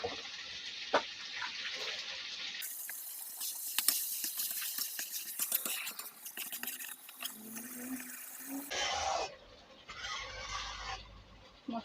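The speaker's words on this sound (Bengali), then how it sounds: "মিক্সার গ্রাইন্ডারটা ধুয়ে দিই।" Running water washes a mixer grinder jar in a home kitchen, a hissing gush that starts, swells loudly for several seconds with clattering handling, then eases into quieter splashing.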